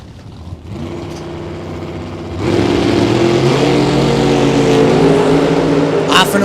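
Drag race launch of a Toyota truck and a T-Bucket Roadster at a bracket race, engines idling then surging into a loud sustained roar as they pull away, with crowd and commentary noise underneath.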